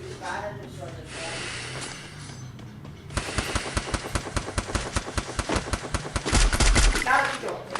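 A shooter video game erupts in rapid automatic gunfire, a sharp, evenly spaced string of close shots after a few quieter seconds, with players talking over the action.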